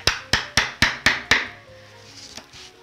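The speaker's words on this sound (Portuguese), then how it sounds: "pra talhar essa parte aqui, eu usei a chave de fenda e o martelo" A hammer strikes a screwdriver to carve a piece of wood, six sharp, evenly spaced blows up close, followed by a few fainter taps and quiet scraping.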